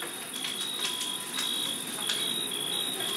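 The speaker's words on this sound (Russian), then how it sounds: "На улице сверчки поют." Crickets chirping outside on a summer night, a faint high, steady trilling with rhythmic pulses in the background, no voices over it.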